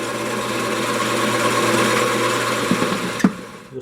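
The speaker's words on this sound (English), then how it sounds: "And I'll just drill this out." Wood workpiece spinning on a woodturning lathe while a drill bores it out, a steady whirring motor hum with grinding texture, ending in a couple of clunks as the tool is withdrawn, no talk.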